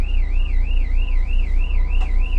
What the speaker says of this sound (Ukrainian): Нам сигналізує, що воздух уйшов.